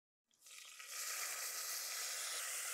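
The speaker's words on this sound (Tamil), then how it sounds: "அந்த சீரகம் போட்ட பிறகு அந்த சீரகம் நல்லா பொரிஞ்சு வரணும்" Cumin seeds hit hot oil for masala jeera rice and burst into a sudden, bright sizzle that swells within a second and then holds as a steady, crackling hiss.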